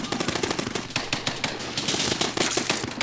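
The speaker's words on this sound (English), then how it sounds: "And that is a machine gun." Rapid machine-gun bursts in the war video game Men of War: Red Tide: loud, dense automatic gunfire rattling continuously for a few seconds with overlapping shots and no talking.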